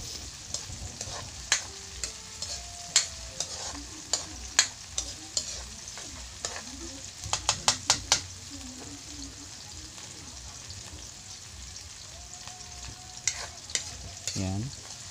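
Bell pepper sautés in a pan for a vegetable empanada filling: a steady soft sizzle with repeated clinks and scrapes of a stirring utensil, close by, with quiet voices faintly in the background.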